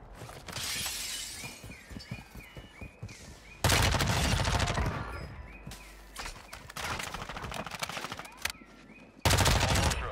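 Rapid automatic fire from an MP5 submachine gun in Warzone, with loud sustained bursts and sharp cracks, some glassy shattering, and repeated volleys across the stretch, no talking.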